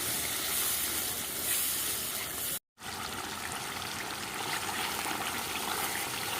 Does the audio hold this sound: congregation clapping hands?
no